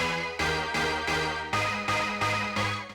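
Melody of a track, played by a DJ from stems: loud, punchy synth chords in an even repeating rhythm, with a lower chord change midway and no talk.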